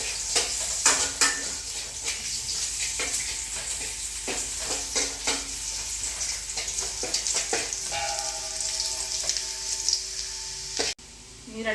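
Chopped garlic, four or five cloves, sizzles and crackles in hot sunflower oil in a pan, a steady frying hiss broken by scraping stirs and clinks of a utensil, with a short pause and a faint tone near the end.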